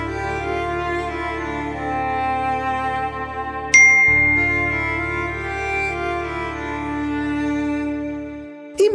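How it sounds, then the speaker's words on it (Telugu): A phone gives a single bright message notification ding partway through, ringing briefly over a sustained musical background. "ఈ మెసేజ్ ఒకటి ఏమొచ్చిందో ఏంటో."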